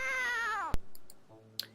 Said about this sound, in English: That is really such a bad cat sound.